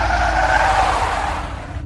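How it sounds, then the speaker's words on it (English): An ambulance brakes hard, its tires skidding in a loud, sustained screech layered over engine noise, fading slightly before cutting off abruptly. "Lucas immediately pressed the brakes"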